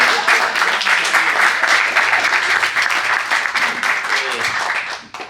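A crowd applauds steadily at a school's 80th-anniversary panel discussion, a dense wash of many hands clapping at once, sustained for several seconds before tapering off at the end.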